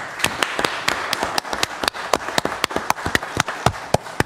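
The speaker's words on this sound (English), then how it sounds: "will you join me in applauding Councilman Saunders and Dr." Applause at a city council meeting: a smallish group clapping, with distinct, fairly close, slightly uneven claps in a quick rhythm that run steadily throughout.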